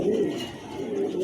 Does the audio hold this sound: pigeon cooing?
yes